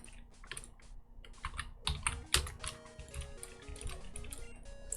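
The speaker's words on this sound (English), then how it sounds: "I am using a very loud keyboard." A very loud, clicky computer keyboard typed on close to the mic, bursts of sharp rapid keystrokes with short pauses between them and no talking.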